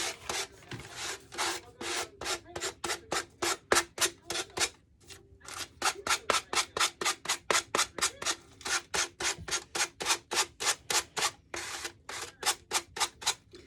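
A Dollar Tree sanding block rubs back and forth on wooden planks in quick, regular strokes, a rhythmic rasping that pauses briefly midway before continuing.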